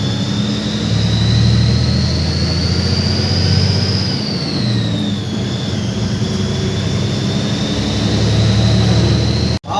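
A brand-new Sadguru Balumama bus engine runs loud and close as the owner drives it, a heavy steady low drone with a whining tone that rises, dips and climbs again through gear changes, continuous until an abrupt cut at the end.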